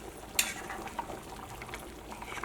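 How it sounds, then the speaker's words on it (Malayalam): Fish curry simmering in a pot, a faint continuous bubbling with a brief clatter early on and small pops scattered throughout, heard alone without voices. "നമ്മുടെ മീൻകറി ഇവിടെ ഇരുന്നിട്ട് തിളച്ചുകൊണ്ടിരിക്കുന്നുണ്ട്."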